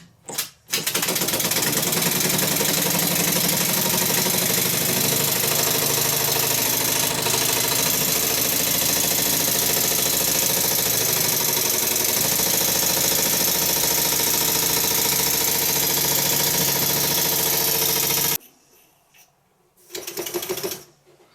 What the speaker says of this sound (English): The engine starts with a surprising amount of oil coming out of the exhaust, but this is normal.